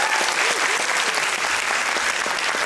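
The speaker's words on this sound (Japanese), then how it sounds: "改めてカモカモクラブのみんなに大きな拍手をお願いいたします。" A school club's audience gives a big round of applause at a student stage event, a continuous dense wash of many hands clapping at a steady loud level from start to finish.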